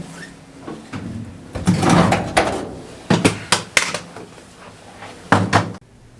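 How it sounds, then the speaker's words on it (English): Several sharp clunks and rattles of a VW Beetle's door being worked loose and lifted off after its screws are removed, with bursts of scraping metal in between, close by. "we can go ahead and remove this door."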